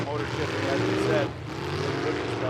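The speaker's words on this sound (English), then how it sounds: "that is not a happy engine right now." A derby car engine at a demolition derby runs rough and strained, a loud sustained drone with wavering pitch that dips and recovers midway, steady throughout.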